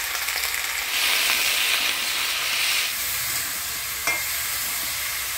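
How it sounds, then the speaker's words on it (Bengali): Vegetables with turmeric and salt frying in a pan, a loud continuous sizzle with scraping stirring strokes, close and without speech. "হলুদ লবণ দিয়ে সবজিটা ভালো করে নাড়াচাড়া করে নিলাম।"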